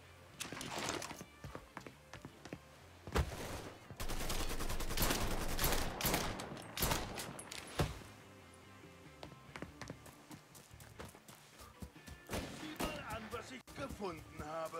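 Gunfire in the Mafia III video game: bursts of rapid automatic shots and single cracks, loud and uneven, separated by quieter stretches of game ambience.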